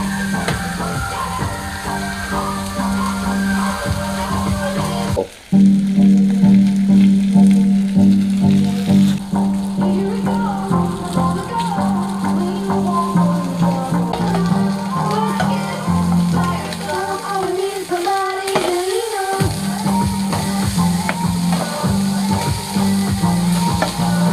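Burgers fry in oil flavored with bacon fat, a steady close sizzle that runs throughout with a brief dip partway, while a person talks over it.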